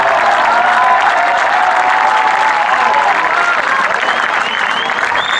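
Loud, sustained applause from a crowd at a Hindi comedy poetry gathering (hasya kavi sammelan), dense clapping filling the hall without a break, with some faint voices and a thin whistle-like tone near the end.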